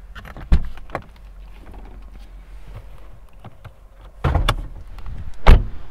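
Car doors of a 2021 Mercedes-AMG E63 S thump shut, one sharp close early on and a heavier pair of closes near the end, with quiet shuffling and handling noise between, close to the microphone and without talk.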